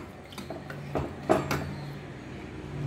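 A metal lid set onto a cooking pot while making mambazha puliseri, a mango curry, with a few light clinks and scrapes and one louder clatter, close and fairly quiet.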